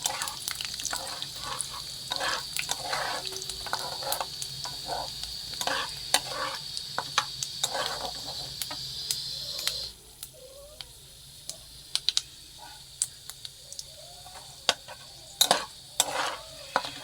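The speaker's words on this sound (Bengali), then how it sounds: "মশলাটা ভালো করে ভাজা হোক" Spices fry in hot oil with a bright sizzle while a spoon scrapes and stirs the pan in irregular taps; the hiss drops away sharply halfway, leaving quieter scattered stirring clicks.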